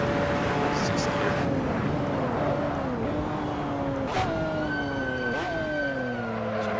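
Engine of a McLaren F1 GTR race car in Assetto Corsa, droning steadily with pitch drops as it downshifts under braking, loud and continuous without a break.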